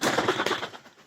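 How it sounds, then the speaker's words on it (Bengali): Pigeons in a small home pigeon farm, including Giribaz and racer birds, give soft, brief coos close by, with a faint flutter of bird sounds fading out toward the end. "অনেক জাতের ভালো ভালো কবুতর আছে"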